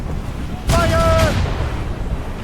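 A single heavy ship-cannon blast booms in the game Assassin's Creed Rogue, a broad rumbling burst with a brief tonal ring over it and a shouted voice alongside.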